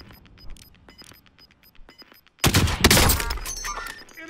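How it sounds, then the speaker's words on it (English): A .50 caliber sniper rifle headshot in a shooting video game: faint clicks and light taps, then a sudden loud blast with a crackling, shattering tail that slowly fades. "Headshot with a 50 cal for the win."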